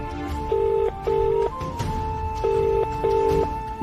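A telephone rings unanswered with a steady electronic ringtone in repeated double bursts, loud and close, over a faint background bed with no talk.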